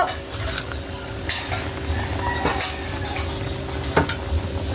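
Chicken tinola is stirred in a cooking pot, with steady sizzling and a few sharp clinks of a utensil against the pot, no voices.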